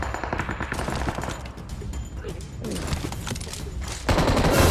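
Rapid PUBG Mobile gunfire, bursts of automatic shots layered with sharp single cracks, loud and busy, ending in a heavier blast.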